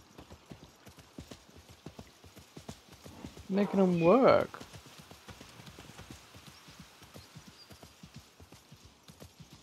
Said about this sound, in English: These poor donkeys.